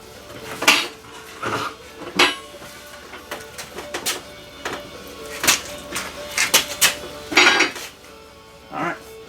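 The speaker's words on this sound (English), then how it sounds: "tire spoon popped right out on its own" A metal tire spoon pops free of a motorcycle tire bead on a modified Harbor Freight tire changer, heard as a series of sharp, close metallic clinks and taps spaced irregularly over quiet.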